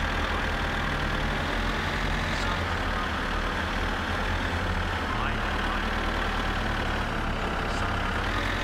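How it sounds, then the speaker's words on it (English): A tractor engine in My Summer Car running at a steady low rumble throughout, with a person talking over it continuously. "Hop into the tractor and drive across the bridge until the first turn to the right."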